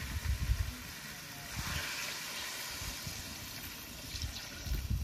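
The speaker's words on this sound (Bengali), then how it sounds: "জল দিয়ে দিয়েছি" Water is poured into a pan of potato and taro curry, a soft steady splashing and trickle with low bubbling bursts at the start and end, close but fairly faint, with no voices.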